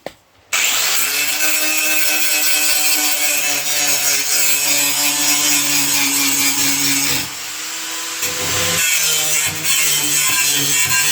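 Harsh, whining grinder cutting into a metal patch repair on an old vehicle body, loud and sustained with shifting pitch, a brief pause near the end before grinding resumes.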